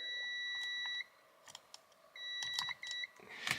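Several sharp, high electronic beeps from a multimeter continuity test, a long tone then shorter ones, with small clicks and handling noise between them.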